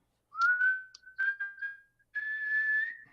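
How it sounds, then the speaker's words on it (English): A loud human whistle in a few bright sustained notes, rising then holding with short breaks and one longer final tone, close and clear with no voices. "He lets out a loud whistle."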